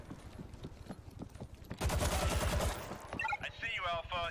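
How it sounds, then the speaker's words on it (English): Rapid bursts of machine pistol fire in the zombie shooter World War Z, a quick run of sharp shots, then a louder dense burst, with voices chattering near the end. "this machine pistol is not as powerful as the standard Colt"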